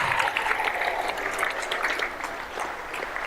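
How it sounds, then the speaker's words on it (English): Brief round of applause from a school or community audience at a substance-free coalition talk, moderately loud, uneven clapping that thins slightly toward the end. "Round of applause for that person right there."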